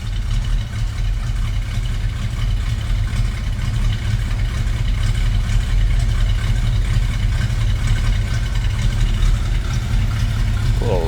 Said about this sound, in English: A little rumble coming out of that 302.